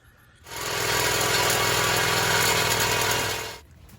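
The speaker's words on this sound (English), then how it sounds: "So I'm gonna go ahead and get this pipe cut" A power tool cuts an exhaust pipe for Hooker headers on a Ford 302/351 Windsor in a 1968-69 Torino or Fairlane, giving a loud, steady grinding whine that lasts about three seconds and then stops.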